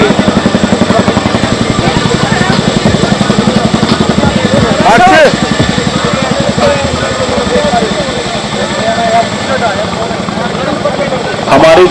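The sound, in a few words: Air Force Chinook helicopters flying at air show rehearsal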